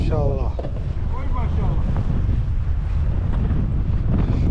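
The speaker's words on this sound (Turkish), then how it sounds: "Çok rüzgar var." Strong wind roars steadily across the microphone beside the Bosphorus at Beykoz during a fishing outing, with faint voices and water noise underneath the constant buffeting.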